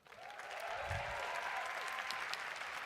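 Graduates and guests at a college commencement break into sustained applause, a broad even roar of many hands clapping in a large hall, rising quickly and holding steady throughout.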